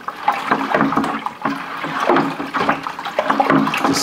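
Cool water being stirred in a container of ham brine, with irregular sloshing and swishing strokes that rise and fall close by, unbroken by speech.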